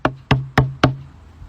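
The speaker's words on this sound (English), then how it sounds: "That night they hear knocking at the door." Four sharp, evenly spaced knocks land on a door, close and resonant, each ringing briefly before the next, with nothing else heard.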